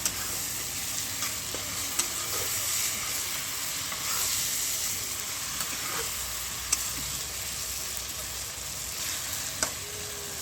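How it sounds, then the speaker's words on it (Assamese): Fish is stirred in butter and cream in a frying pan, a steady close sizzle with scattered light scrapes and clicks of the utensil against the pan throughout. "ভালকৈ লৰাই দিম।"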